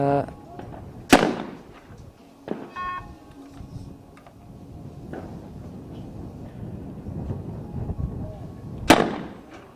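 Shotgun blasts ring out at an ISSF World Cup mixed team trap shooting final in Cyprus, two sharp reports some seconds apart with a softer distant shot between, under a commentator's voice.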